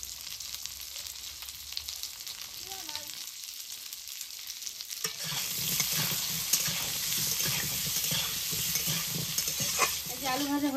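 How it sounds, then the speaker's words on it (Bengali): Potatoes fry in oil with a continuous close sizzle, quieter at first and then louder and denser after a few seconds, with scraping stirring noises mixed through. "এই যে আলু ভাজা হয়ে গেছে, এই যে দেখুন কত সুন্দর লাল লাল করে ভেজে নিয়েছি।"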